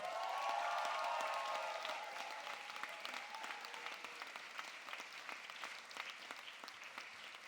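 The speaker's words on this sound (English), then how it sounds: "So big round of applause, Mr. Smith." Applause from an audience at a school cabaret, a dense wash of many hands clapping that starts fairly loud and continues steadily at moderate level, alone without speech.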